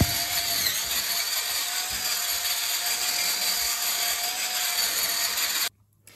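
An electric spin scrubber whirs steadily as its brush spins and rubs across a surface under light pressure, a continuous close-up motor hum with scrubbing hiss that runs for about five and a half seconds, then cuts out abruptly.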